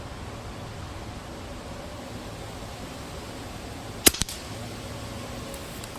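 A Winchester 1977xs shotgun fires a slug at 25 yards, giving one sharp report with a brief echo over steady wind and background hiss.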